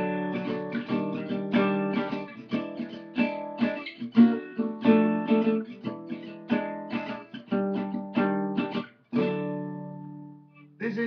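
An acoustic guitar strums gypsy jazz rhythm chords, a crisp, steady pattern of short choked strums cycling through three chords. It ends on a ringing held chord.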